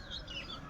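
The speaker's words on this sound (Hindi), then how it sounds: "सुबह सुबह इस तरीके से चिड़ियों की चहचहाहट" Birds chirp and tweet softly in the morning outdoors, small high calls scattered over a steady background hum, fairly distant and faint.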